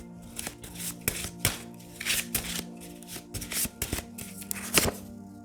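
Tarot cards being shuffled and handled close by, a string of soft papery riffles and slaps with brief pauses, alone without talk over a faint steady hum.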